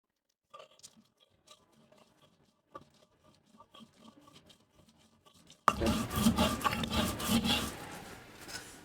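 Cumin seeds crushed on a grinding stone over a green chili paste, quiet scattered taps and scrapes at first, then a sudden loud, close, continuous gritty rubbing and crunching of stone on stone.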